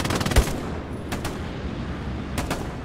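Rapid bursts of gunfire in the World War II shooter Hell Let Loose, with sharp repeated cracks near the start and more distant volleys later, under steady battlefield background noise.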